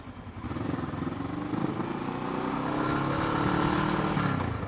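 A Kawasaki ER6f Ninja 650R motorcycle fitted with Black Widow aftermarket downpipes and a cracked exhaust runs with a steady, close, raspy engine drone that swells slightly louder over a few seconds, alone with no voices.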